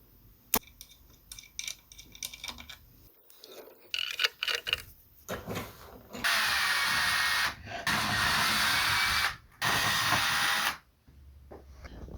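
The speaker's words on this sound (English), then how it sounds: "I drilled a hole right in the middle, right there." A power drill bores a hole through the middle of a chair backrest mount, running in several long sustained bursts separated by brief pauses, preceded by scattered clicks and handling noises.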